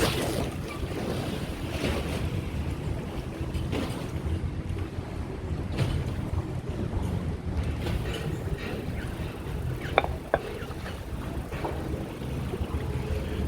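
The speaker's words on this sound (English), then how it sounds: "It's making pretty big waves here." Boat-driven waves wash along the Chao Phraya River in Bangkok, a steady broadband rush of water and wind noise with a few brief knocks, continuous and fairly close throughout.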